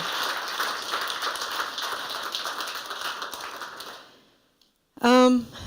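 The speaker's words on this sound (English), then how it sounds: "So one more round of applause for all of you" Sustained audience applause at a fintech awards ceremony, a steady wash of many hands clapping that fades out near the end, followed by a brief spoken word.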